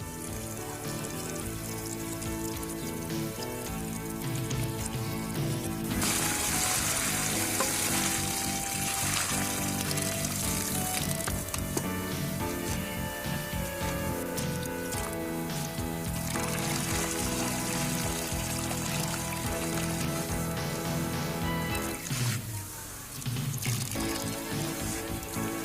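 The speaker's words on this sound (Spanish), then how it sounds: "con agua limpia la escoria de carbón para limpiar todas las impurezas que pueda contener" Clean water poured and trickling through coal slag to rinse out impurities for hydroponic growing, a continuous splashing and gurgling flow with rising and falling intensity and brief dips near the end.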